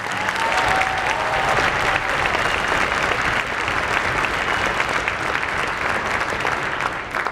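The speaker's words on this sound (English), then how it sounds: "Can we just have a round of applause for all of our students?" Sustained audience applause for students at a high school winter concert, dense and steady throughout, filling the hall with continuous clapping and no talk over it.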